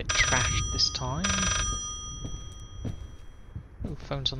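Old-fashioned telephone bell ringing in the horror game Layers of Fear, clear bursts of ringing in the opening second and a half and again near the end, with a voice speaking in between.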